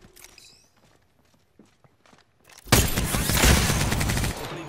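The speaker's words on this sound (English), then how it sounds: "Opening fire on the enemy." Gunfire in Apex Legends: quiet taps and footsteps at first, then a loud, sustained burst of rapid automatic fire for about two seconds.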